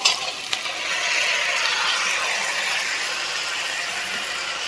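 Onion, chilli, ginger, garlic and koorka stirred together in a pan for a pork and koorka dish, giving a steady close sizzle with scraping and clinking of the spoon, continuous and without talk.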